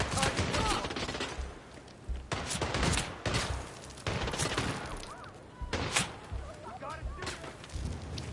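Repeated gunfire in sharp bursts, loud cracks and rapid volleys with short pauses, while voices shout over the shooting.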